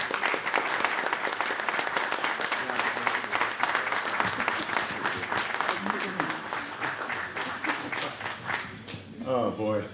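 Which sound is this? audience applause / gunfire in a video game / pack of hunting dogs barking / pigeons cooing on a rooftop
audience applause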